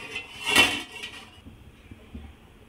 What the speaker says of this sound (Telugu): కడాయి పెట్టుకుందాం.